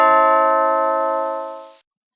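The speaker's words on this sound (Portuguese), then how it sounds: "O som da campainha cantarolou em seus ouvidos." A doorbell chimes once, a clear electronic ding with bright tones that rings out and fades away, alone and with no voices.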